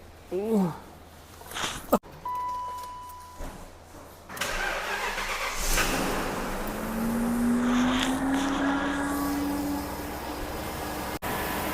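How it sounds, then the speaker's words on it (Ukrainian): A BMW E39 car engine cranks and catches after a repair to the intake manifold, then settles into a smooth, even idle. Talking and handling noises come first, and a voice speaks over the running engine. "Мотор працює ідеально рівно."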